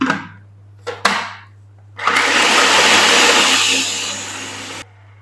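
An electric chopper grinds green chilies, fresh coriander and mint leaves, starting with two short pulses, then running in one loud whirring burst of about three seconds before stopping abruptly over a low steady hum.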